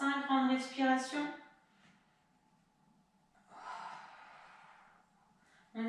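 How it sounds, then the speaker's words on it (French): Deep, slow breaths taken during a Pilates exercise, one long audible exhale in the middle of the stretch, fairly close and soft, with a voice speaking briefly at the start. "encore 5 grandes respirations"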